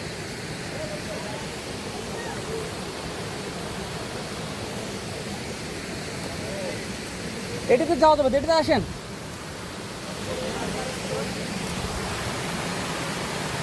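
Steady broadband wash of a stream running beside a night-time trekking trail, continuous and fairly close, with people talking briefly over it and a short burst of voices and movement partway through.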